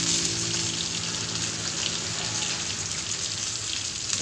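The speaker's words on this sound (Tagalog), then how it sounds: "lagyan natin siya ng tubig. Kunti lang guys. Para lang may sabaw siya." A little water goes into a pan of frying tamban fish, raising a steady, close, moderately loud hiss and crackle that runs unbroken for several seconds with no voices.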